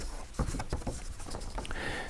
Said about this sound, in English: Noise engineering generates sound like this.